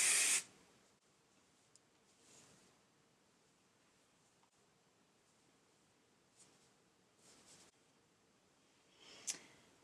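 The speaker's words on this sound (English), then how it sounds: "And then spray it." A short, sharp burst of hairspray from an aerosol can misted over freshly curled hair, loud and close at the very start, then faint rustling and occasional soft hisses in a quiet room.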